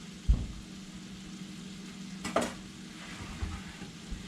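Chopped kale and sweet potato leaves stirred into a sizzling pan, a steady low frying hiss broken by a few distinct scrapes and knocks of the spoon, close by.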